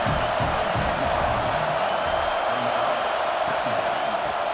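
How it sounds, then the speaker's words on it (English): A college football stadium crowd at a Notre Dame versus Michigan game roars in a continuous wash of cheering and noise, loud and sustained across the whole stretch, with a commentator's voice faintly mixed in. "Listen to the crowd energy here in the early going."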